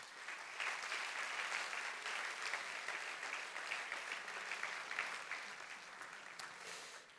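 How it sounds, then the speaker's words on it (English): Sustained applause from a conference audience at a leaders panel, a dense, even wash of many hands clapping that holds steady for several seconds before easing slightly at the end, with no talking. "I think that deserves another round of applause"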